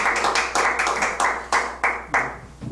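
A small group claps in short, uneven bursts, close and fairly loud, with the clapping rising and easing in waves over a couple of seconds.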